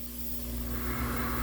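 Cooking oil sprayed into a bowl from a kitchen spray can or mister, heard as one short, steady hiss building slightly in strength.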